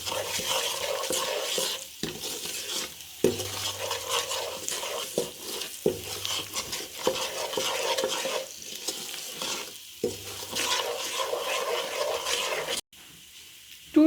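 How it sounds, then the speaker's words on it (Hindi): Ground spices including turmeric are stirred and roasted in a pan for palak paneer, giving a steady sizzle under repeated scraping strokes of a spoon, with brief pauses and no talking. "अब इन तमाम चीज़ों को हम अच्छे से मिक्स करेंगे और 3 से 4 मिनट तक इसकी भुनाई कर लेंगे।"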